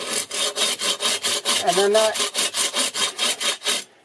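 A hand saw cuts soapstone along a marked line in steady, rhythmic rasping strokes, close and loud, about four strokes a second, with a brief scraping squeal partway through; a single spoken word comes just before it.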